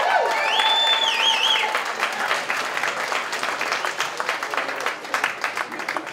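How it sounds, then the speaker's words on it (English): Audience at an amateur boxing night applauding the fighters, a dense sustained clapping with cheers and whistles early on, thinning slightly toward the end. "So a huge round of applause to the fighters."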